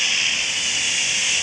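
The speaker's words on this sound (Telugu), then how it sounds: "నా డ్రోన్ చూడండి గైస్ ఒక్కసారి." A small drone flying close by gives off a steady, continuous high whirring hiss that holds even for the whole moment, with no voices over it.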